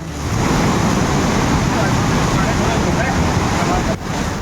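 The Alaknanda river runs swollen after torrential rain, a loud, steady roar of rushing water that fills the whole stretch with broad turbulent noise and dips briefly near the end.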